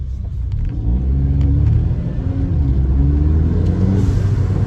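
A loud, close engine rumble from a Mercedes A45 AMG rises and settles as it revs, with a breathy blow-off valve whoosh riding over the steady low drone.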